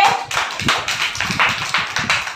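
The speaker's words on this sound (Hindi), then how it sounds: "ताली बजाओ उसके लिए" Children clap together in a classroom, a rapid, slightly uneven burst of many hands that keeps going steadily for a couple of seconds, close and fairly loud.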